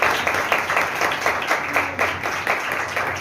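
An audience at a religious talk claps loudly and steadily. The dense, sustained applause fills the room close by.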